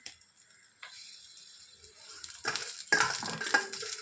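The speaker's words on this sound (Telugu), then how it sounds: "కొంచెం పచ్చిమిర్చి జీరా ఇవి కొంచెం వేగి వరకు వేయించుకోవాలి" Coriander seeds, cumin and green chillies roast in a pan, starting with faint scattered ticks and scrapes and building to a louder, close stirring sizzle near the end.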